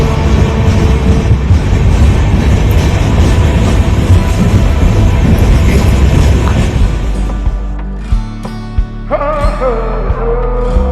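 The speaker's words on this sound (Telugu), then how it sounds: "మళ్ళీ ఇంకో ట్రైన్ వెళ్తుంది." A train passes through a railway station on a morning walk, its loud, roaring rumble filling the first seven seconds before fading into quieter tonal rail sounds and clanks.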